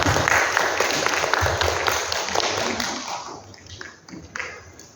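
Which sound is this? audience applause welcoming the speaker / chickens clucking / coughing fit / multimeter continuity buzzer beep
audience applause welcoming the speaker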